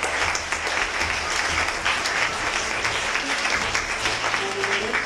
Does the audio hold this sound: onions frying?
no